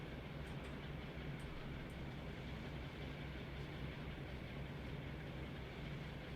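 Diesel engine of a Great Western Express train in Train Sim World 3 runs steadily at idle, a constant low rumble with faint clicks above, with no talk.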